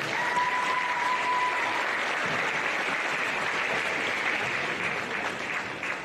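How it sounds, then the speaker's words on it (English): Sustained applause from parents and supporters at a junior netball gold medal game presentation, a dense steady crowd clapping throughout, loud and even, with a brief whistle-like tone early on. "Let's give them a big round of applause."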